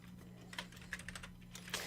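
Keys on a computer keyboard are tapped in short, uneven bursts as a project name is entered, with a steady low hum underneath.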